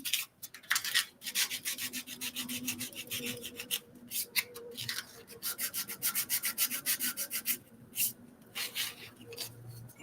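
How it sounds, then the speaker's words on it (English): Someone hand-sands a gingerbread-style wooden craft piece, producing a steady run of quick rasping scrubs in a close, brisk back-and-forth rhythm, alone without talk. "just going to sand it down a little bit"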